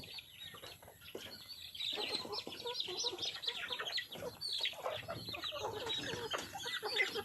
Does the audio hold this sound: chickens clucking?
yes